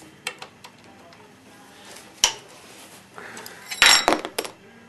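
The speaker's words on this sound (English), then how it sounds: "8 millimeter Allen to loosen the caliper mounting bolts" Metal tool clinks and clanks as an 8 mm Allen key works the front brake caliper mounting bolts on a BMW F650 motorcycle, sparse scattered taps with a cluster of sharper metallic rattles near the end.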